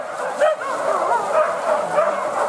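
A hunting dog chasing a large wild boar down a hillside gives repeated yelping, whining bays at moderate distance, steady and insistent.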